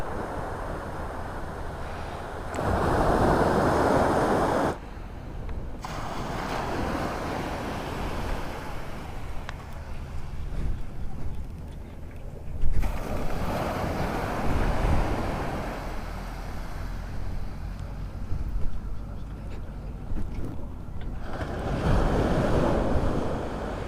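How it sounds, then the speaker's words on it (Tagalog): Sea waves at Lingayen Gulf, repeated swelling surges of surf that rise and fall in slow cycles, loud and close with wind buffeting the microphone and no talking. "Gusto ko lang pakinggan yung alon."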